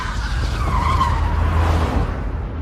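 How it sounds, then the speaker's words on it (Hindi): A cartoon car skids to a sudden stop, a loud sustained tire screech over a low engine rumble lasting about two seconds before cutting off. "तभी अचानक गुल्ली ने गाड़ी रोक दी"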